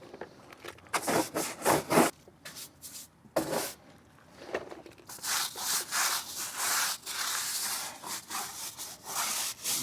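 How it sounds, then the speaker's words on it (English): A stiff brush scrubs caked mud from a Jeep's fender wells in quick, rasping bursts, loud and close, coming in uneven rhythmic strokes with short breaks and no talking. "So I'm going to have to scrub these fender wells."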